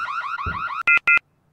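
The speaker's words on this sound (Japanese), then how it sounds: "警報器みたいのが鳴ってるね。" An alarm in the horror video game True Nightmares: a loud, warbling electronic wail that stops and gives way to two sharp, identical beeps, then silence; no voices.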